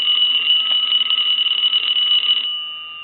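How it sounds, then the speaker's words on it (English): A payphone's electromechanical bell rings steadily and loud for about two and a half seconds, then stops, leaving a fading metallic ring. "we'll go ahead and ring the bell"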